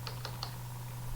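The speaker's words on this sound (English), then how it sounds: "if I type something like" Three quick keystrokes on a computer keyboard, close and quiet, followed by a low steady hum of the room.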